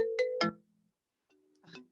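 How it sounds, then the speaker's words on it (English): A FaceTime call ringtone sounds on a phone: quick bright rising tones, then a pause of near silence before the chime pattern begins again, fairly faint and close with no talking. "So you're getting a FaceTime call."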